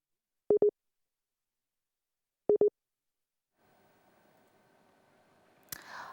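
Two short tone bursts of a telephone busy signal sound alone after a dropped live phone link to a correspondent, followed by faint line hum and a sharp click at the end.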